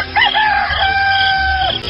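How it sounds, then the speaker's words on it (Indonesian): A rooster crows at dawn, one long, loud, close cock-a-doodle-doo that rises and then holds before trailing off, with no voices. "Kalian dengar suara kokok ayam jago itu?"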